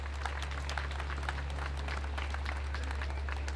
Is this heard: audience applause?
yes